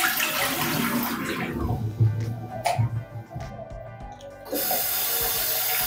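Hot water runs steadily from the tap of a Havells Monza EC 15-litre electric geyser, a continuous rushing splash that dips partway through and then returns at full strength, with a few faint clatters in between.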